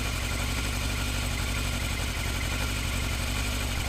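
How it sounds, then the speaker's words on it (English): A used motorcycle engine idling unevenly, stumbling and hunting for revs instead of running smoothly; a close, continuous low pulsing putter with no voices. "You hear how the engine's stumbling, falling on its face a little bit, kind of searching for that engine RPM."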